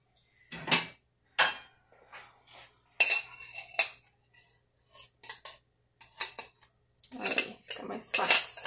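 Gelatin being moved onto a plate with cutlery for a creamy homemade gelatin ice cream, giving a series of sharp metallic clinks and scrapes against the dish, close and fairly loud, in irregular bursts.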